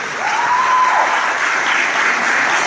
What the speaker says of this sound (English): clap for the explosion, yeah, clap for the explosion.